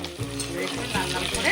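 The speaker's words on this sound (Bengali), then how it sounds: "পেঁপে আর পেঁয়াজটা আমি একসাথে দিয়ে দিচ্ছি।" Papaya and onion fry together in a pan for a fish curry, with a soft, continuous sizzle. Tonal, voice-like sounds run faintly underneath.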